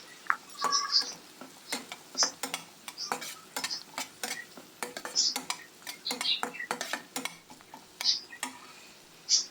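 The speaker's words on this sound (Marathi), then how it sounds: "कांदा परतून झाला की त्यामध्ये 1 चिरलेली हिरवी मिरची घाला." A spoon clinks and scrapes repeatedly against a pan as chopped green chili fries with onion, the metallic taps sharp and irregular over a soft sizzle, close and fairly quiet.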